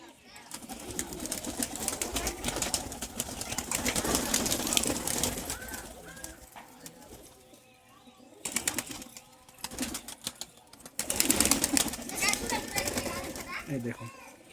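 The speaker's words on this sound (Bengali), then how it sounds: "দেখতে পাচ্ছেন এগুলো ভেতরকার পায়রা বেরোচ্ছে" Pigeons stream out of a loft as a gate is opened, cooing and flapping close by, with children's voices and adult talk mixed in throughout.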